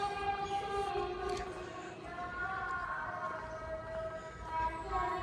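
A train runs along the track toward Wagah on the Frontier Mail route, its sustained tonal horn and rumbling wagons heard steadily for several seconds, with voices faintly underneath.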